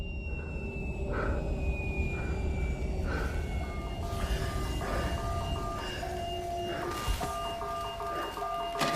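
Train ride in the video game SOMA: a steady rumbling rail-car drone with sustained tonal hums, periodic repeating beep-like tones and a few louder clanks, continuous and fairly close throughout.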